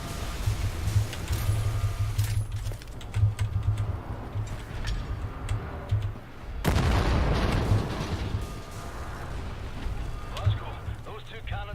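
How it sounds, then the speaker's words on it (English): Cannons in a cliffside bunker in Wolfenstein: The New Order fire as heavy booms and blasts under a steady voice, with one loud, dense blast near the middle. "those cannons are blasting us out of the sky"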